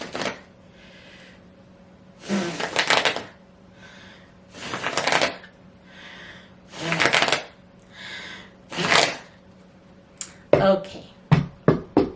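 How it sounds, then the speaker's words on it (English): Tarot cards being blown on and handled: about half a dozen loud, breathy rustling bursts a second or two apart, ending in several quick sharp flicks, over a steady low hum. "let me blow these tarot cards"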